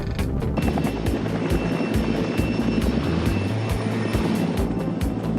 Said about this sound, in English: The chopper nearby the compound is heading in your direction, possibly armed.